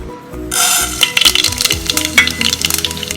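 Mustard seeds tipped into hot oil crackle and splutter after a quiet start, a sudden burst of sharp pops and light metallic taps from the pan, close and fairly loud, with no voices.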